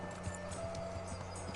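Horse hooves clip-clop at a steady walking pace in the medieval video game Kingdom Come Deliverance, moderately close and fairly quiet over a low game ambience.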